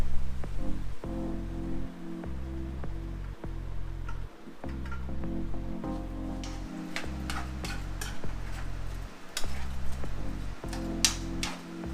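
Vegetables are sautéed in a pan for a vegetarian pot pie filling. A soft sizzle and scattered clicks of stirring sit under loud, rhythmic background music.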